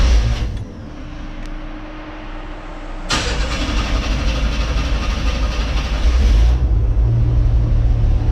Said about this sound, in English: It fires right up, it idles good, and it'll just sit there and run as long as I want it to.